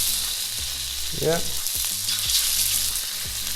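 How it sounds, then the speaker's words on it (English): Sea bass chunks frying in mustard oil in a pan for an Indian fish curry, giving a steady, close sizzling hiss with a few soft stirring clinks throughout. "I'm just going to add the fish, and you can hear it sizzle slightly."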